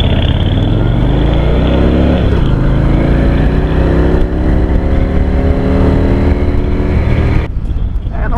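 A Harley-Davidson motorcycle engine runs loud and close, its pitch climbing as it accelerates through rising revs before cutting off abruptly near the end.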